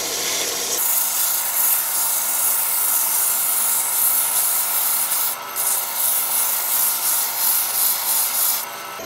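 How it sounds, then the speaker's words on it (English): Steady, hissing friction of sandpaper rubbing against a spinning brass hammer piece on a lathe at about 600 to 800 RPM, continuous and close, with a faint motor hum underneath. "I'll slow down my lathe quite a bit to about 600 to 800, and just kind of work my way along these"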